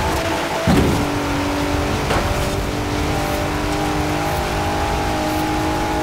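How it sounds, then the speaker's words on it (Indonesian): Fast car engine in the racing video game Forza Horizon 4, a continuous loud engine drone with rising and steady tones and a short revving surge near the start, heard alone. "Gila, kenceng dong mobilnya."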